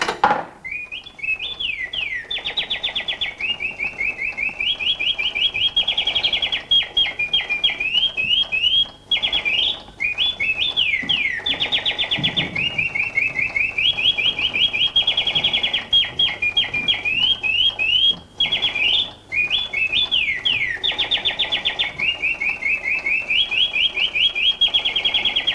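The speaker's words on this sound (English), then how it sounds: "So here's my old English penny, going in the slot now, a penny's worth of bird song." Coin-operated mechanical singing bird automaton from Paris, 1890, whistling a long, continuous warbling song with rapid trills and swooping notes, loud and close over faint mechanical whirring.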